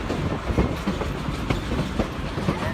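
A Cumbres and Toltec Scenic Railroad tourist train rolls along with a steady rumbling roar and faint rhythmic clickety-clack of wheels on rail joints, heard from on board.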